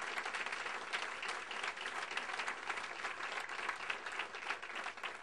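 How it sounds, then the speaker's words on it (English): Outdoor applause from a gathered crowd at the groundbreaking of a baseball and softball complex, a steady wash of clapping lasting several seconds at moderate distance, with no speech over it. "Let's give her a round of applause."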